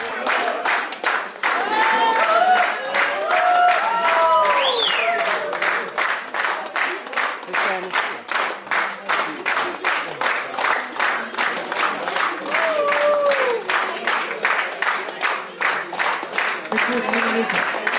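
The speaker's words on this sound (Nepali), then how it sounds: "एकपटक जोरदार ताली यो ताली लामो रहनुपर्छ" Sustained loud applause from an audience welcoming models onto the stage at a Nepalese cultural and musical evening in Oslo, with dense rhythmic clapping throughout and some cheering voices over it.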